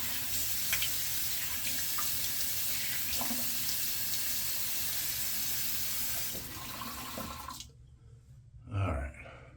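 Tap water runs steadily into a sink for several seconds while someone rinses their face mid-shave, then the flow cuts off, leaving a few faint splashes and a brief knock.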